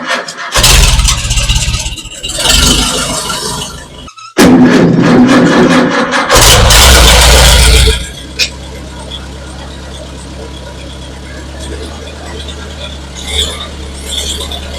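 An old iron engine cranks with sharp loud bursts after choking and gassing the carburetor, catches and then settles into a steady low idle, heard up close.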